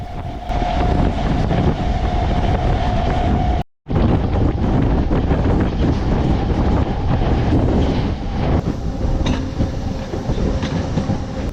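Narasapur MEMU Express 17269 passenger train running, heard from on board as a steady loud rumble with rail clatter and wind buffeting, briefly cut off partway through and then continuing without talk.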